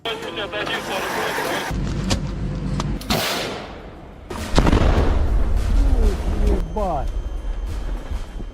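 Artillery fire in Russia-Ukraine combat: heavy booms and low rumbling blasts mixed with engine noise and a chaotic background, voices shouting over the din, loud and continuous.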